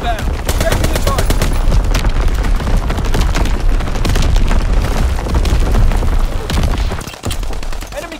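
Dense, loud battle sound from the Call of Duty: WWII video game on the Shipment 1944 map in Domination mode: continuous rapid gunfire with heavy booming explosions, almost unbroken apart from a short dip near the end.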